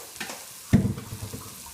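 Swollen soaked rice is tipped into a pan of hot tarka for a peas pulao, giving a sudden close sizzle that fades into softer frying and stirring.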